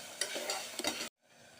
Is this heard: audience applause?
no